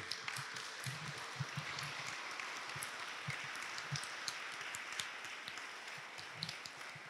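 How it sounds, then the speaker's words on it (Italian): Audience applause at a Lucca Comics & Games 2023 Dampyr panel, greeting the publisher Davide Bonelli: dense, steady clapping from a crowd held at an even level for the whole stretch, with no talk over it. "farei un applauso invece all'editore che invece quello c'è, lo vedo qui, è Davide Bonelli"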